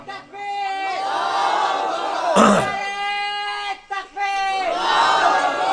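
A crowd at an Urdu religious gathering shouts slogans back in unison, loud and sustained voices with harmonic chanting, briefly broken by a sharp burst mid-way before the chant resumes.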